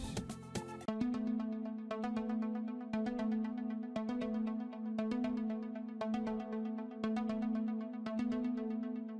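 Repeated plucked synth notes from the Spire plugin's Anjuna pluck preset, in an amapiano beat remake, bounce in a steady rhythmic pattern over a sustained low tone, loud and clear with no voices.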